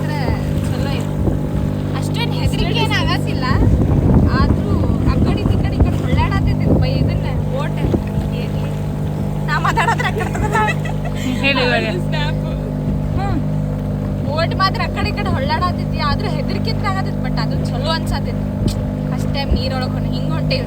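A small motorboat out at sea drones with a steady engine hum and rushing wind and water. People talk over the noise throughout.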